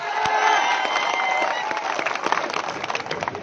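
Sugarcane farmers at a roadside protest clap and cheer in a lively burst, the crowd noise loud at first and then breaking into scattered claps and shouts.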